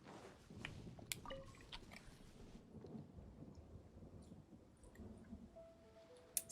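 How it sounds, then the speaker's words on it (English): A dog eating dry kibble up close, with irregular crunching, munching and lapping noises and occasional sharp clicks, fairly loud and busy at first, then fading. "I don't know if you can hear that, but that's my dog."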